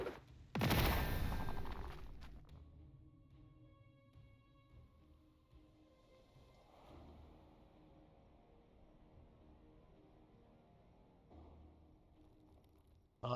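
A loud, dense volley of gunfire from the turn-based strategy game Warhammer 40,000: Gladius, lasting about a second, then fading into quiet ambient game music and low rumbles.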